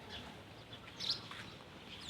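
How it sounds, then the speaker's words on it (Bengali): Birds call faintly in the early morning around a quiet neighbourhood canal, with a few brief chirps rising over a soft, steady outdoor background. "পাখিরা ডাকছে,"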